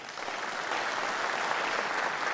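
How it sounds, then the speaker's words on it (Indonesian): Audience applause fills a business chamber dialogue event, steady dense clapping from a large crowd throughout, loud and continuous with no speech over it. "Kita berikan aplaus."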